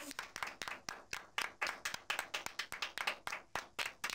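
Children clapping in a classroom or learning setting: a rapid, steady run of sharp hand claps, close and continuous for several seconds, with faint voices underneath.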